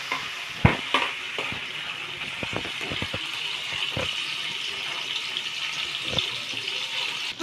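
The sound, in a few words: stirring paneer in a frying pan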